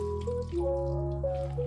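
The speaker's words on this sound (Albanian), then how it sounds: "600 gram boronica. I shtojmë 1 gotë ujë." A glass of water pours into a frying pan of blueberries on the stove, a steady close trickle and splash running the whole short moment alongside a low, even hum.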